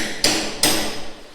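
A hammer chisels a conduit line into a concrete wall at a house under construction, two sharp, bright metallic strikes a few tenths of a second apart, close and loud, with no talking.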